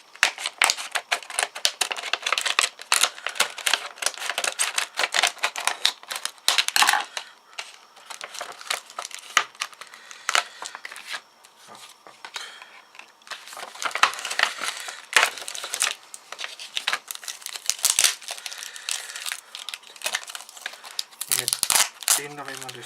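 Sticky tape crackles and tears in rapid, irregular bursts as it is pulled off a sealed card-pack package, close and busy, with crinkling packaging and occasional speech.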